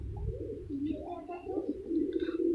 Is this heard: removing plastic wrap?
no